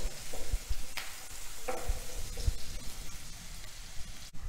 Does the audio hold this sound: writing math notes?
no